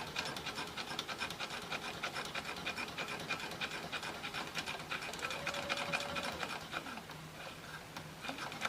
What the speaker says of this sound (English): I'm moving this, and I'm just stitching, give or take about 1/8 inch away from the edge.